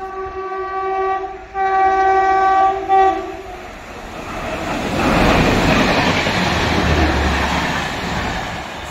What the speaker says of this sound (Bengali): ইন্ডিয়ান রেলওয়েজের একটা সুন্দর গাড়ি বেরিয়ে যাচ্ছে।